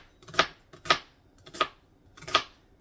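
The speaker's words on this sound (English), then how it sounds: "And you're just going to cube your onions." A knife cubing onions on a cutting board for haluski gives four crisp, separate chopping strokes spaced about half a second apart. Each lands close and clear over near silence, with no talk.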